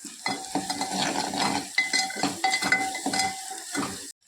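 Curry leaves and dried red chillies fry in a pan, a close crackling sizzle broken up by a spoon scraping and stirring against the metal.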